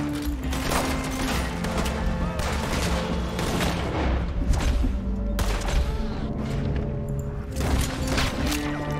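Volcanic pistol gunfire in Red Dead Redemption 2 near a massive oil explosion fire, several loud sharp cracks scattered over a rumbling backdrop, with some booming impacts.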